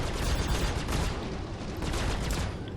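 Ship weapons in Star Citizen firing in continuous rapid bursts, a loud dense rattle of gunfire with no pause from start to finish.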